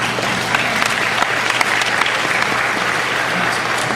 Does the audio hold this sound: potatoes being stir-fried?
no